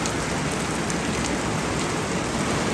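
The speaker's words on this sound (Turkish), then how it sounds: "Bir de bugün yağmurdu. Görüyorsunuz." Steady rain falls on a summer holiday morning, a dense, even hiss of drops that fills the whole moment with no voices.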